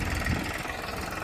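A new farm tractor's engine runs at a steady idle, a close, continuous low rumble with slight vibration and no talking.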